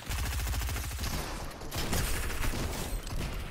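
Pistol and other gunfire in Danish-played Fortnite comes as a dense, loud barrage of rapid shots. Mechanical clatter and chaotic battle noise fill the whole span.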